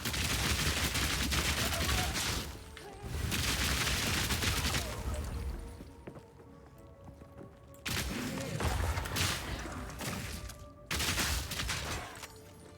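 A mercenary firing a gun in Path of Exile 2: dense, loud bursts of rapid shots in several volleys a few seconds long, with quieter gaps between them.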